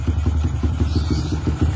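A motorcycle engine runs with a PE 26 carburetor while being tuned at high RPM, giving a steady, rapidly pulsing drone that stays close and fairly loud without a break.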